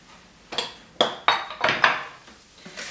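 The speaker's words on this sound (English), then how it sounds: "So what I do is I take my bowl and put a little bit of olive oil in it" A bowl is handled and set down while olive oil goes in before bread dough rises, giving a series of close, sharp knocks and scrapes of a bowl against a kitchen surface, roughly five distinct hits spread over a few seconds.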